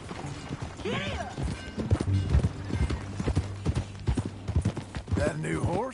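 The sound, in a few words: horse hooves clip-clopping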